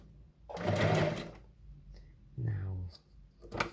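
A home sewing machine runs a zigzag stitch during a craft session, with two short bursts of whirring stitching between pauses and a voice talking over part of it.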